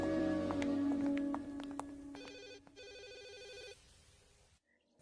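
A telephone rings indoors with a warbling electronic ringtone in repeated bursts, over a fading background tone, then cuts off into near silence.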